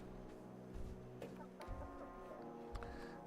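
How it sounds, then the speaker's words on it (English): A chicken in the survival game ATLAS clucks in short bursts over steady in-game background music and ambient noise, with no talk. "What a nice chicken."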